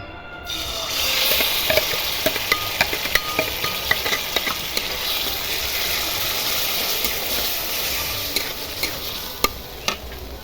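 Dry red chillies and tomato-garlic paste fry in white oil in a kadai, giving a steady close sizzle broken by sharp, scattered clicks of stirring.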